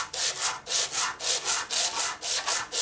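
Sandpaper rubbed back and forth over a part from a 1958 Harley panhead 74ci engine, a close, even run of about a dozen rasping strokes in a steady rhythm, with no voices.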